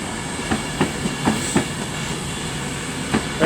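A train, 39117, pulls away from Crewe station on a London Euston service, its wheels clicking over rail joints at a steady rhythm over a loud, continuous rumble.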